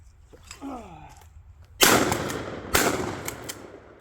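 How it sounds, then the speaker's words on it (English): Two shotgun blasts at clay targets, sharp loud reports about a second apart with trailing outdoor echo, preceded by a quiet voice and faint background sounds. "All right, last 2 clays, last 2 shells. Here we go. Try to get them both."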